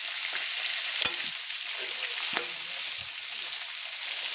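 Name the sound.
prawns frying in a pan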